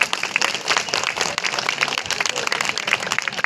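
A hall audience claps loudly for the chief guest, a thick, steady patter of many hands that carries on without a break, with faint voices mixed in.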